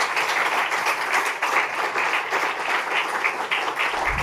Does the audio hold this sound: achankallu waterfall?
no